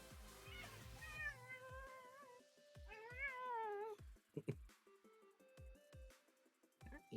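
A cat meows loudly and repeatedly up close, drawn-out whiny cries followed by scattered thumps and clicks.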